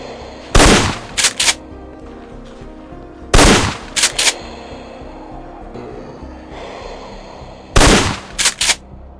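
Shotgun blasts in a survival horror game: three loud, close shots a few seconds apart, each followed by two quick mechanical clacks of the pump action, over a low ambient background.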